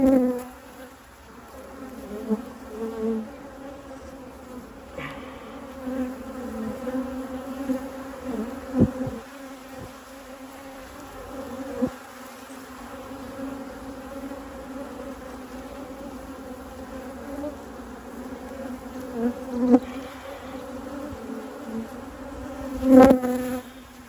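Honeybees hum in a steady, close drone at an opened hive during a queen-rearing cell check, with a few sharp knocks and clicks from handling the frames.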